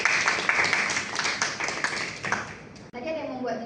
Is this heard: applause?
yes